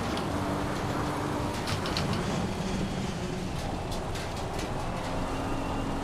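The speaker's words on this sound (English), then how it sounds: "It's very rainy." Rain falls during a wet practice session in the racing game Assetto Corsa Competizione, a steady, even hiss of heavy rain that fills the scene with no talking.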